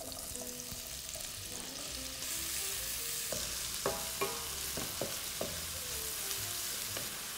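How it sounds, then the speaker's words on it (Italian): Chopped onion sizzles steadily in melted butter in a saucepan over medium-low heat for fettuccine alla papalina, with a spoon stirring and scraping in several sharp clicks and knocks partway through. "si va a far soffriggere bene la cipolla"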